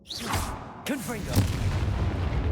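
Confringo fire spell blasts cast in the Hogwarts Legacy video game, a few booming bursts with whooshing pitch sweeps over continuous game background sound.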